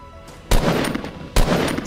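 Gunfire in the Fortnite video game, with two loud, sharp bursts about a second apart, each followed by a noisy game soundscape.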